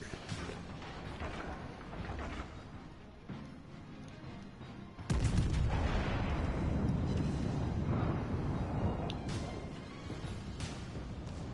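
Naval guns fire in World of Warships Legends, a loud broadband blast at about five seconds followed by a rumbling roar that lingers, with softer booming and game noise before it.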